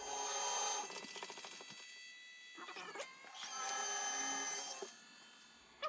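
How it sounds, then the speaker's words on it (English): A power drill bores holes in a metal flywheel for a Miser Stirling engine, giving several close whining bursts with brief pauses between cuts. "I'm going to go around and put 5 more holes in there, and that will be the all the drilling"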